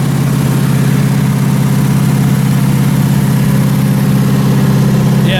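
A warmed-up car engine with a new distributor cap and rotor idles steadily and loudly up close, an even low rumble with no talk over it.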